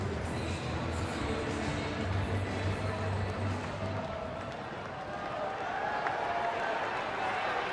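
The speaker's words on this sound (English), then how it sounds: "Everybody's cheering." Baseball crowd at a Pittsburgh ballpark cheering after a base hit, a broad steady roar from many fans at moderate distance, sustained throughout under a commentator's voice.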